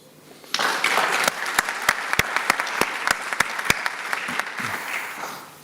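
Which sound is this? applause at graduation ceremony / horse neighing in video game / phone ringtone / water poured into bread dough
applause at graduation ceremony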